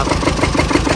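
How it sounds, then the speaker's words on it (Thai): A Chevrolet Colorado Z71 engine with a shaking fault runs loud and close, a steady rough idle with a faint irregular knocking pulse inside. "นี่นะเสียง ของ ปัญหาของคันนี้นะมีเสียงดัง อยู่ในเครื่องยนต์นะดังก๊อกก๊"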